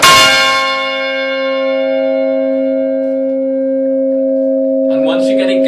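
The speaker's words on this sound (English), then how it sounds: "but I'll ring this one anyway." Church bell in the Mickleham belfry struck once, a loud, clear clang that rings on with a long sustained hum slowly fading, before a voice begins speaking near the end.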